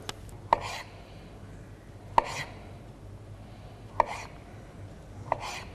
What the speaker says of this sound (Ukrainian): Раджу починати саме з чищення буряка.